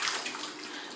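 Water runs steadily from a tap while a baby's head is washed, a close, continuous splashing hiss with no break.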